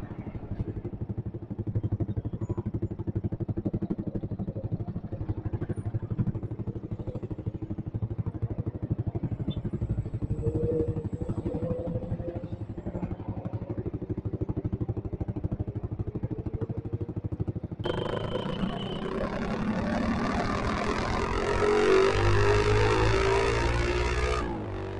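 A motorcycle fitted with a loud open brong exhaust rumbles at night, a steady low engine drone that swells louder and rougher near the end as it revs.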